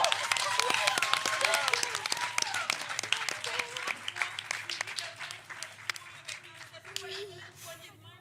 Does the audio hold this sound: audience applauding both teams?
yes